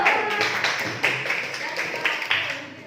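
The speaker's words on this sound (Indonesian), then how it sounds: "Tepuk tangan dulu." A classroom group clapping hands, a short burst of several sharp, fairly even claps that fades out after a few seconds.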